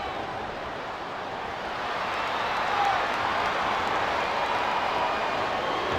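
A capacity crowd in an SvR 2008 wrestling arena, a steady wash of cheering and applause that swells slightly partway through and stays loud and continuous.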